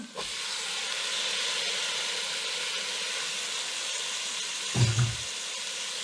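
Corn hits a hot pan in a Nigerian cooking demo, and a steady, loud broadband sizzle of frying holds for the whole stretch. A brief low thump comes near the end.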